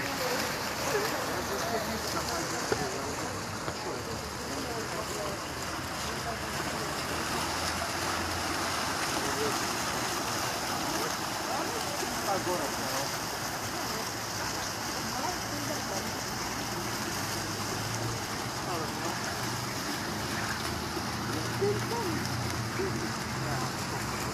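A city fountain in Piotrków sprays chlorinated water, giving a steady close hiss of splashing and falling water that runs unbroken throughout with no clear voices.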